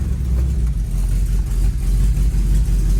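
A 1972 Oldsmobile Cutlass engine runs steadily with a deep, rumbling low-end burble and small fluctuations in the idle, loud and close, with no talking over it.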